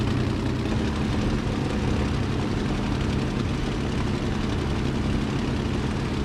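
A Bf 109's propeller engine idles at low throttle while the fighter taxis on the ground in Microsoft Flight Simulator, giving a steady, loud, unbroken droning rumble throughout.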